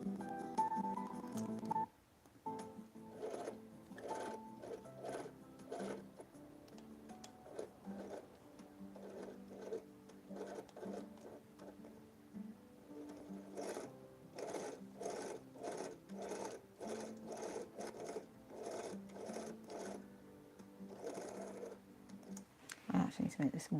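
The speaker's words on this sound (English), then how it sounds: "Me while I do some sewing." A sewing machine stitches in a home studio used for sewing and embroidery while scrunchies are prepared, its motor running in repeated bursts of rapid mechanical chatter with short pauses between runs, loud and close.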